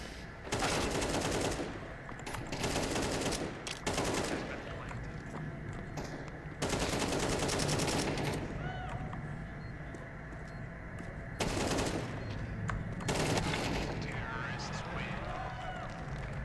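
Bursts of rapid gunfire in a NAVI vs MOUZ esports match, several sustained volleys separated by short pauses, loud and dense, with a commentator talking over the action.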